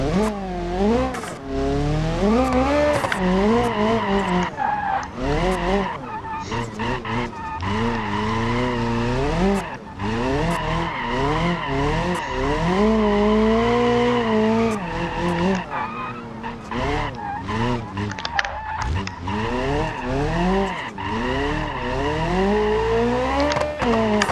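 Drifting car in BeamNG.drive with loud, continuous tire squeal and a revving engine whose pitch sweeps up and down through repeated slides, sustained without talk.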